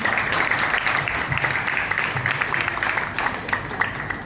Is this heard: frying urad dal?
no